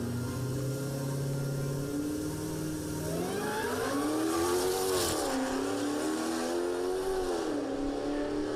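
A drag racing car at the Yellow Belly drag strip during a TSV Motorsports event accelerates steadily at moderate distance, its engine drone climbing in pitch, dipping briefly, then holding a high, strained whine over continuous track noise.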